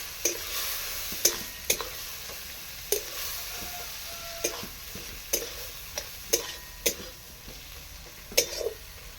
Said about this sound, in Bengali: মশলা ধুয়ে জলটা দিয়ে দিন খুব ভালো করে কষতে থাকবে এগুলো